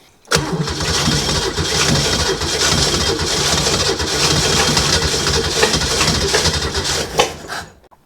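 An old Holden 202 boat motor cranks and catches right away, then runs at a loud, rough, steady idle for several seconds before cutting off near the end.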